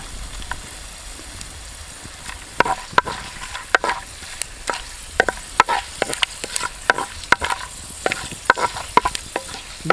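Whole mace, cinnamon and cardamom fry in hot oil, giving a light sizzle broken by repeated sharp scraping and tapping strokes from stirring, close and with no voices.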